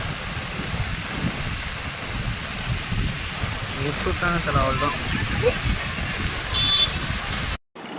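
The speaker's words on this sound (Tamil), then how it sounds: "கோடிக்குப்பத்தில் கனமழை பெய்தனால் குட்டை ரொம்பி வெள்ளக்காடாக காட்சி அளிக்கிறது" Heavy rain pours steadily over flooded ground in Kodikuppam, Tiruvannamalai, a dense outdoor hiss with a few faint clinks and brief tones mixed in before it cuts out near the end.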